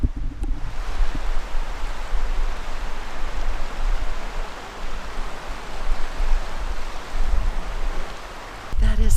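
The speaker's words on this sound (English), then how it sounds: "I'm gonna just check and see if I can hear the water over on this side" Flowing water outdoors in Colorado makes a steady broadband rushing wash, continuous and fairly close, with no talk over it.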